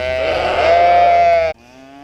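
A sheep penned beside heifers on a cattle ranch lets out one loud, close, drawn-out bleat lasting about a second and a half, then it stops abruptly and only faint livestock sounds remain.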